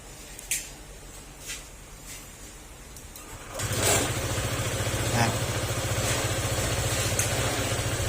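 A rebuilt Honda PCX160 scooter engine with its flare rings still off: a few faint clicks, then the engine catches partway through and settles into a steady, close idle that runs to the end.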